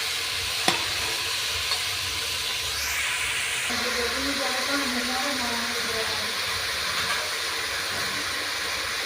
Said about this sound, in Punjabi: ਮਸਾਲੇ ਦੇ ਵਿੱਚ ਸਾਰੀ ਸਬਜ਼ੀ ਨੂੰ ਆਪਾਂ ਚੰਗੀ ਤਰ੍ਹਾਂ ਮਿਕਸ ਕਰ ਦਿੰਦੇ ਹਾਂ